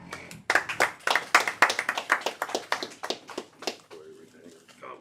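A congregation at the closing of the Feast of Unleavened Bread claps in a brisk, rhythmic beat of sharp, close hand claps, tapering off and fading out toward the end.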